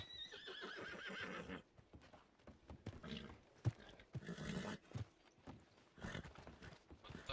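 Repeated horse neighs and whinnies in Red Dead Redemption 2 ring out over hoof clops and game ambience, fairly loud and close.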